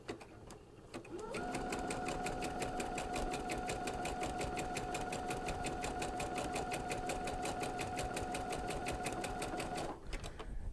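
A sewing machine with a cording foot runs a zigzag stitch in one continuous stretch, its rapid, even mechanical rhythm starting after a second and stopping near the end.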